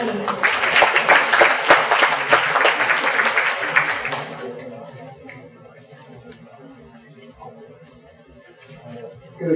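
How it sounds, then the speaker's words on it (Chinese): An indoor audience applauds to welcome a speaker at a youth working-holiday information session, with loud clapping for about four seconds that then fades into quiet room murmur. "请大家来掌声欢迎"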